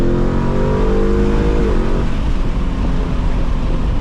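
A 2024 Mustang GT with cold air intakes pulls hard in third gear, its engine roaring loudly from inside the cabin with a rising tone that drops at a shift, then keeps droning.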